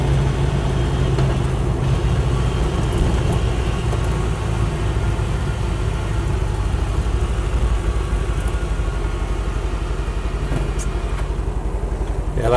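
A Land Rover Series III with a V8 conversion runs steadily close by, its continuous low engine drone carrying a faint whine from a worn clutch thrust bearing throughout.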